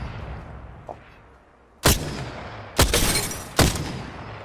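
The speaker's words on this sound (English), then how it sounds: "this is the best sniper of all 4 of them to do standing shots" Three loud, sharp sniper rifle shots ring out in a video game, spaced about a second apart, each a hard crack over a low background rumble.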